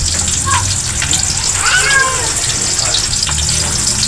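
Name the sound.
hot cooking oil spattering while frying dried fish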